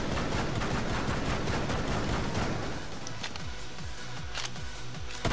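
Twitch's tap-fire gun in Rainbow Six Siege shooting steadily, a dense run of rapid shots followed by sharper spaced single shots, loud and alone with no voices.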